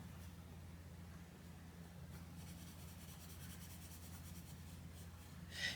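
A purple iris coloured pencil scratches steadily across thin paper in a colouring book, a soft continuous rub over low background hum, with a slightly louder stroke near the end.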